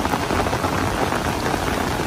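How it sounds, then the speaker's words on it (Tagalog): Sudden rain pours steadily at a Manila Bay beach, a dense, close, even hiss of drops striking the surface with no pauses and no voices. "Tapos eto lang biglang ulan."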